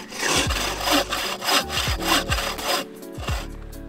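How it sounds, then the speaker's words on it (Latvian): A bow saw cuts through wood outdoors in a winter camp at minus fifteen degrees, its steady back-and-forth rasping strokes loud and close with no voices. "Cita zāģēšana ar kārtīgu zāģi."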